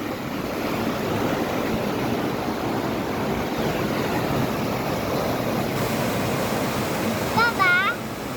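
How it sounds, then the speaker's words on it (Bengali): Water roars strongly and steadily through a sluice gate at Nia Para, Taltali, a dense continuous rush heard up close, with brief bird chirps near the end. "কত জোরে পানি যায়"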